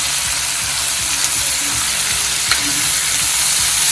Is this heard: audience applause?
no